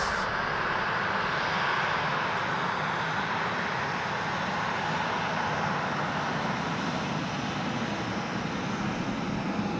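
Qantas airliner passing overhead at sunset: a steady, loud broadband jet-engine roar that fills the clip, with no voices.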